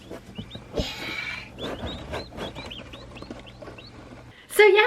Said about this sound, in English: We have 5 baby turkeys right now in our basement brooder